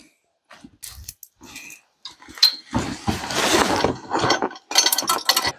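Short metallic clicks, ratcheting and clanks of tools and parts come from a mini bike sprocket being fitted onto the jack shaft of an off-road golf cart. The sounds are close and intermittent, with brief silent gaps.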